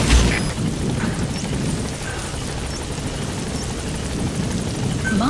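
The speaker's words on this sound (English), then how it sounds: "Support helicopter has arrived" The support helicopter in Metal Gear Solid V arrives with a steady, heavy rotor rumble and broad wind-like roar holding for several seconds, a low thump at the start and faint metallic game cues above.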